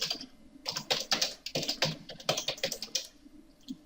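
Text is typed into AutoCAD on a computer keyboard: a close, brisk run of uneven key clicks in small bursts, then a short pause and a few final taps, with no speech.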